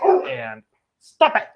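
Dogs bark in short, sharp bursts, one near the start and another about a second later, with a person speaking over them.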